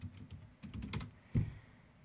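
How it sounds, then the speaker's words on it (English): A password typed on a computer keyboard, a quiet burst of clicking keystrokes followed by a single firmer key press. "Type in our password."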